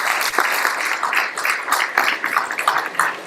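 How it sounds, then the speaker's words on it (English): An audience at a monthly meeting of the Arlington Young Democrats claps together, a dense, fairly close burst of applause lasting a few seconds without talk. "Let's give them a big round of applause."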